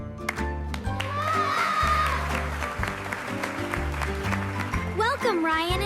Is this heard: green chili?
no